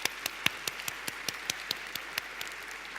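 An audience at a Startup Istanbul fireside chat claps in a steady run of sharp, evenly spaced claps, fairly faint and heard from a distance, with no talking over it.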